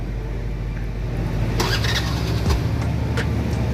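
A scooter engine cranks and catches, then idles with a low steady rumble; a few sharp clicks and rattles along the way.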